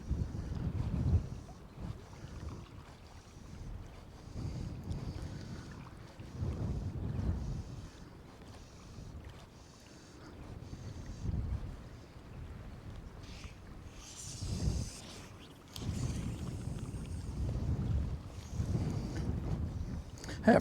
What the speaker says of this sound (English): I don't think the cold wind's very helpful for trout fishing